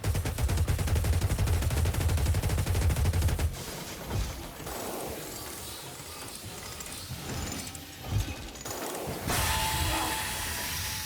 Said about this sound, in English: Outcast Engineer just gets a chain gun.